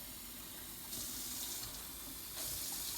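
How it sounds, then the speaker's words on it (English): Very warm water poured into a bowl for pizza dough, a continuous close splashing trickle that swells twice as the flow strengthens, with no talking. "So next thing we want to do is add very warm water."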